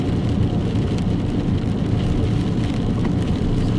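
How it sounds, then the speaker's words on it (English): Heavy rain pours down during a storm in a dense, continuous roar, loud and close, with a low rumbling undertone throughout. "heavy rain."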